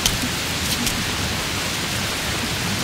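Steady rain pours down on a road, a dense even hiss of drops on wet surfaces holding constant for the whole stretch with no voices.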